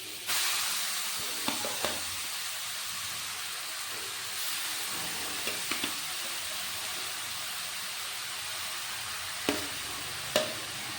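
Papaya pieces frying in ghee in a pan for Bengali papaya payesh give a steady, close, continuous sizzle, with a few faint stirring clicks and no talking.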